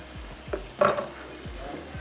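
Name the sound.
julienned ginger sizzling in stir fry pan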